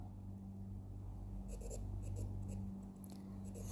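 A pen scratches out short handwritten strokes during a class 9 maths lesson on quadrilaterals, faint and close, with a few quick marks over a low electrical hum.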